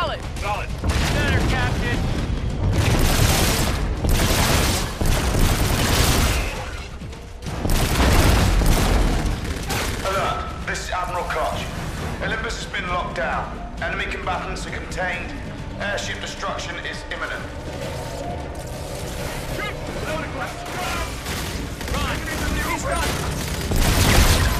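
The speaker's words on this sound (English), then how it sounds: "All this destruction. All the explosions. It's nonstop." Loud, repeated explosions and booming blasts from the video game Call of Duty: Infinite Warfare, with bursts of gunfire, while a person talks excitedly over the chaos.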